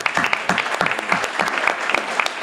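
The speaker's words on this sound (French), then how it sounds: "demander à tout le monde d'applaudir ces artistes-là." Audience applauding hip-hop artists at an arena show in Dakar, a smaller cluster of distinct, fairly close individual claps with an uneven rhythm rather than a dense roar.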